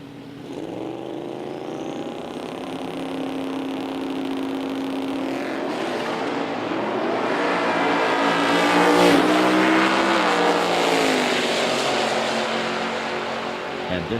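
A GT500 drag race car makes a single pass down the strip at an NMRA event, its engine roaring loud and close as it pulls through rising gears, swelling to a peak near the middle before easing slightly, with faint commentary under it.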